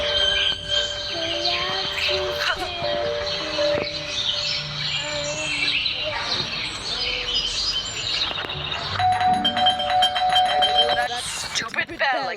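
Doorbell chiming repeatedly inside the Scary Teacher video game, bright electronic tones ringing over busy game music and effects, with a voice talking over it.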